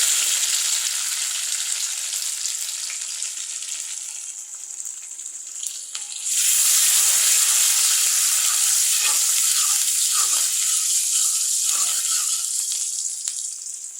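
Pumpkin sautés in a pan with onions, salt, nigella seeds and dried chillies. A steady close sizzle suddenly swells louder partway through, and soft stirring scrapes and spatters follow, with no voices.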